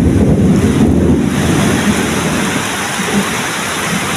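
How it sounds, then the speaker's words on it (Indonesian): Heavy rain with thunder at a mosque construction site beside a pond: loud, dense rainfall pours steadily, with a deep rumble of thunder strongest at the start, and wind buffeting the microphone, with no voices. "Alhamdulillahirrahmanirrahim, hujan turun."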